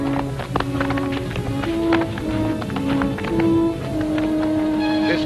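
Horses' hooves clip-clop steadily on the ground in a historical film scene, a busy continuous patter of hoof strikes mixed with background commotion and ambient noise, no clear speech.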